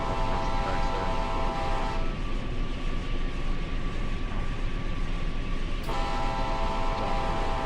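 Amtrak's Auto Train in the Run 8 train simulator, a steady loud rumble of the moving consist with a sustained horn-like tone that cuts off partway through.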